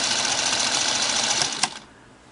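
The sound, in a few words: Singer 221 Featherweight sewing machine motor running with new belt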